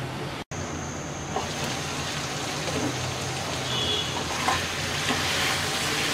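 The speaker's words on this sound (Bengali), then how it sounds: "এবার মিডিয়াম লো আছে, 5 মিনিট কষিয়ে নেব" Drumstick curry with salt sautés on medium-low heat, a dense continuous sizzle with occasional stirring scrapes and a brief dropout near the start.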